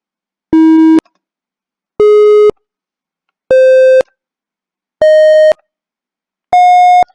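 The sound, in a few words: micro:bit electronic tone rising in pitch with each pin press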